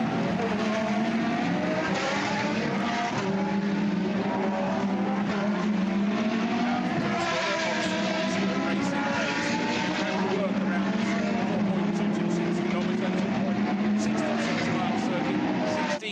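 Lamborghini Super Trofeo race cars pull away from a rolling start at Misano, a steady, loud blend of engine drone that holds throughout under distant commentary.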